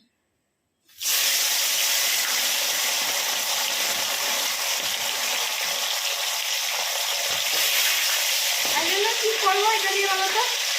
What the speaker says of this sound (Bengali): তেল গরম হয়ে গেছে এবার মাছটা ছেড়ে দিচ্ছি